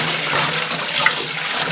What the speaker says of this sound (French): Je les rince donc une dernière fois à l'eau bien fraîche.